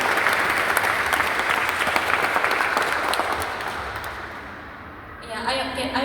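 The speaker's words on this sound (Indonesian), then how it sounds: "Tepuk tangan dulu." Audience applause at a church lector competition for adult finalists, loud and sustained clapping that thins toward the end, where talking takes over.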